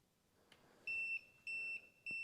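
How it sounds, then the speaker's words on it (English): Three electronic beeps in a row, each a steady high tone lasting a fraction of a second, fairly loud against a quiet room. "Then you hear 3 beeps, which we just heard."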